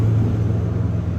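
A truck hauling a small excavator rolls past nearby, a steady, heavy low engine rumble filling the moment without any voices.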